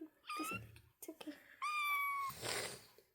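A very young kitten kept in a bathroom nursery meows close by, two high, drawn-out cries with a softer squeak between and a brief rustle after.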